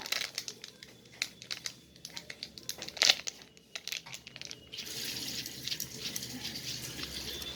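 A Maggi masala sachet torn open and its seasoning shaken into a cooking dish, close, with a run of sharp crinkling packet rustles and a tearing crackle, followed by a softer continuous hiss.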